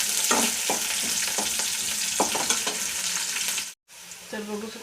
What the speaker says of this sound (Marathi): तर आपण याच्यामध्ये जिरे आणि राई टाकून घ्यायचं आणि थोडंसं लालसर होऊ द्यायचं